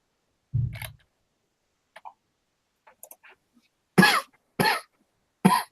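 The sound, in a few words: cough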